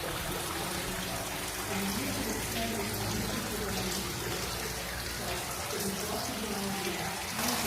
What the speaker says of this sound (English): Here's a beautiful fountain area.